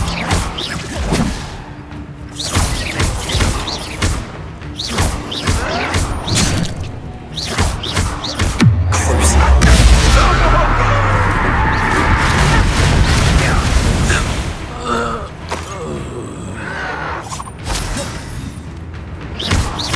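Bombarda spell blasts in Hogwarts Legacy, set in catacombs, boom and crash close and loud, with a heavy sustained explosion in the middle amid whooshes and scattered thuds.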